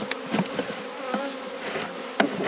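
Honey bees buzz in a strong hive, a close, dense, continuous hum with small swells and individual bees flitting past.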